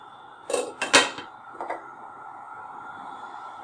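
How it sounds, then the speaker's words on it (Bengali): A cooking pot of dabli chickpeas seasoned with salt and turmeric, stirred with a utensil and then covered, giving a few sharp metallic clanks and a scrape followed by a softer lid clink, close and alone over faint background hum. "এবার একটু নেড়ে চেড়ে আবার ঢাকনা দিয়ে দিচ্ছি"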